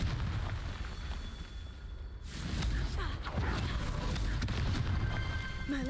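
The Confringo fire spell in Hogwarts Legacy bursts with a sudden booming blast after a quieter stretch, followed by crackling, rumbling debris; a voice speaks briefly.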